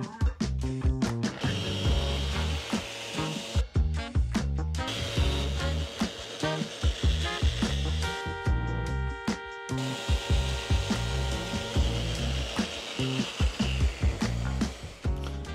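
Continuous harsh grinding and scraping of a walnut tabletop with epoxy and caulking being sanded at 80 grit, loud and close, with irregular bumps and knocks over the steady abrasive roar.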